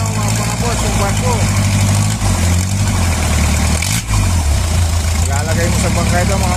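An Isuzu 4BA1 diesel engine idles on a test run with a steady, loud, low rumble that dips briefly before settling back into its even chugging.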